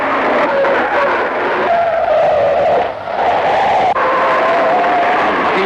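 Race cars at the 1968 Hardie-Ferodo 500 roar past with loud, sustained engine drones rising and falling in pitch as they pass, overlapping one another, with faint crowd noise underneath.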